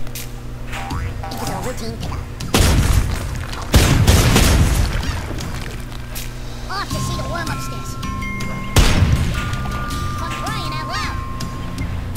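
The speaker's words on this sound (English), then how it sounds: "He's got a banana bomb." Banana bomb explosions in the game Worms Revolution: several loud booms burst over cartoon effects and quirky in-game sounds, with people talking throughout.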